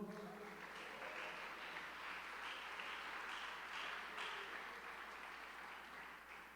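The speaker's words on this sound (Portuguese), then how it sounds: "Você pode aplaudir o Senhor?" A church congregation applauding, a sustained even wash of many hands clapping together, moderately distant and continuous from start to finish.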